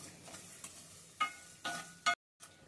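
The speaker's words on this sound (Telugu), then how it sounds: "సాల్ట్ కూడా కొంచెం వేసుకొని వేయించుకోవాలి." Salt dry-roasts in a pan for curry leaf powder, heard as a few scraping stirs with faint crackling and one metallic clink, close and fairly quiet, then a short silence.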